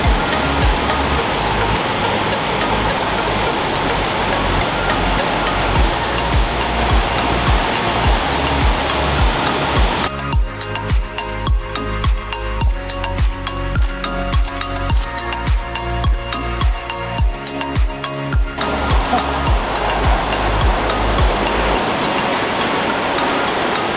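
Lower Wallace Falls, a waterfall in Wallace Falls State Park, roars as a loud, continuous broadband rush. Midway, music with a rhythmic beat plays over the water for several seconds, and then the steady falling water continues alone.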